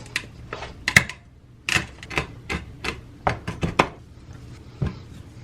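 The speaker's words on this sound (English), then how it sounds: "I have some pepper that I'm gonna manually crush." Black peppercorns crushed by hand in a kitchen: a run of sharp, irregular cracking and knocking hits, close and fairly loud, with short pauses between bursts and no talking.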